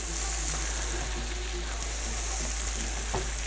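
Vegetables for a tuna casserole sizzling steadily in a pan, a constant frying hiss with faint stirring clicks, close and moderately quiet, no voices.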